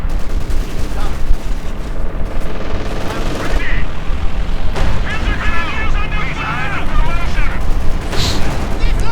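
Strafing gunfire in a World War II strategy game with Panzer Grenadiers, a rolling mix of rapid shots and booming blasts that runs steadily throughout, with a sharp burst near the middle and game sounds layered on top.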